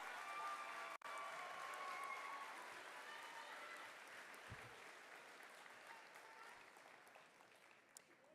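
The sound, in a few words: graduation audience applause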